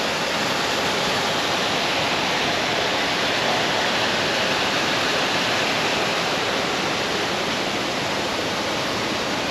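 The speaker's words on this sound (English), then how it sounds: "Found a good spot to view the waterfall from here." A full waterfall roars with a dense, unbroken wash of loud, close rushing water that stays steady the whole time.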